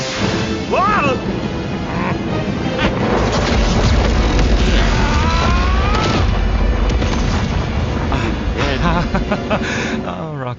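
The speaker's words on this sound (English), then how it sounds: "is the death ray ready? Approaching. Getting there. Almost. Kinda. Maybe. On the way. Yes. Fire!" A death ray fires and explodes in an animated cartoon, bringing booms, crashes and swooping whooshes over a sustained rumble, with character voices and an exclamation over the chaos.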